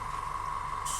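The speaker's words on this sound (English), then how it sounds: "after it's stuck, you can start to spray a bit heavier" Airbrush or spray can misting paint onto a 1:72 scale model, a steady continuous hiss held close and level throughout, with a brighter burst of spray near the end.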